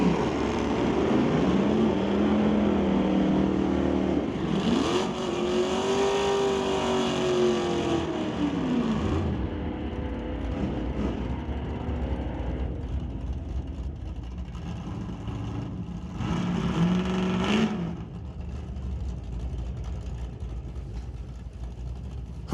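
Two drag cars, a Bel Air wagon and a winged Oldsmobile, launch and run down the strip at an NHRA Summit ET bracket race, loud engines revving with rising and falling pitch, then a second burst of revving near the end.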